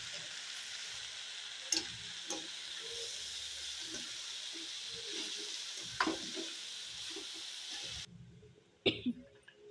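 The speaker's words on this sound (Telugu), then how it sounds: "కొంచెం సిమ్ చేసేయాలి, చేసి కొంచెం ఫ్రై చేసుకోవాలి" Amaranth leaves (thotakura) fry in a pan with a steady close hiss and sizzle, broken by occasional scraping stirs and clinks; the sizzle cuts out near the end, followed by a couple of faint knocks.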